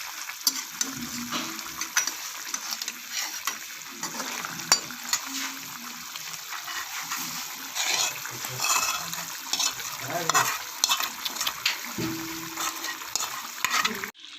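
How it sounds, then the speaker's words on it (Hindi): Stuffed tinda with leftover masala fries on low heat, giving a continuous moderate sizzle broken by irregular scraping and stirring knocks of a spatula against the pan. "अब हम इसको 5 से 6 मिनट भूनेंगे हल्की आंच के ऊपर।"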